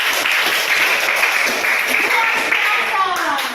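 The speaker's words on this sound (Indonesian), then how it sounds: "Oke, tepuk tangan untuk Suci." Applause for Suci, a participant in a classroom lesson on retail business administration, fills the moment as a dense, steady patter of many hands, fairly loud and sustained throughout.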